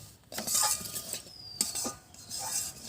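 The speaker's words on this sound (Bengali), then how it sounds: "এবার সুজিটা একটু লাল লাল করে ভেজে নেব।" Semolina roasting in melted ghee in a pan, with a spoon clinking and scraping against the metal in repeated strokes. The frying hiss stays soft beneath the louder utensil sounds.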